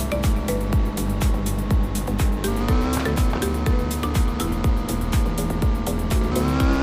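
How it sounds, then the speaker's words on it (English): A car in Car Simulator 2 drones along slowly while its exhaust backfires in a rapid, regular string of sharp pops over the steady engine hum, close and fairly loud, with no talking. "That's why I am driving this slow to enjoy the backfires."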